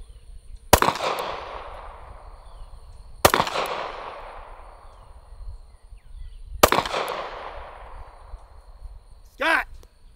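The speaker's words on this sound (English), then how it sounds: "Let's take some shots at these steel targets." A CheyTac M200 Intervention .408 sniper rifle fires three loud, sharp shots at steel targets 554 yards away, each blast decaying in a long echoing tail, with a faint distant metallic ping near the end.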